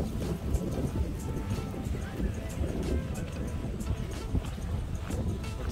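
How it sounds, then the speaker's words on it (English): Strong wind buffets the microphone outdoors at a boat show, a dense continuous low roar and rumble with gusting swells, while a voice is heard faintly underneath. "the wind is kicking up and blowing everything around"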